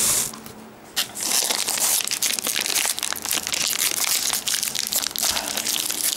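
A Snickers Peanut Butter Squared candy bar wrapper is torn and crinkled open close up, with loud, dense plastic crackling and ripping that runs almost continuously after a brief quieter start.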